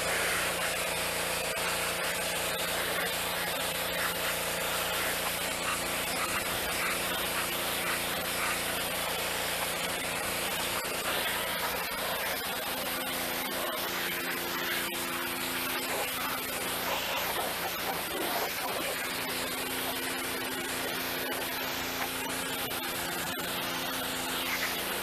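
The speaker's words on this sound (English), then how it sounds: "Still blowing dirt out." Compressed air hisses steadily as dirt is blown out of a filthy barn-find car, a harsh, continuous spray over a running engine or compressor hum, with no talking.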